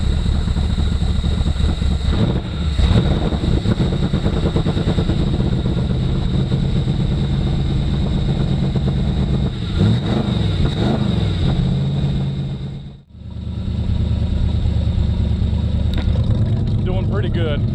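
A 3rd gen Camaro engine cranks and runs, a loud, close, continuous engine roar with a brief drop near the end before picking back up.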